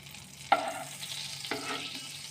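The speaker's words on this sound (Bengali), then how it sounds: "আপনারা চাইলে পুরোটা সাদা তেলেও ভাজতে পারেন, কিন্তু আমি বাটার আর সাদা তেল দিয়ে ভাজছি।" Butter and white oil sizzle in a hot wok, a steady frying hiss with two sharp stirring or scraping hits, fairly quiet and with no one talking.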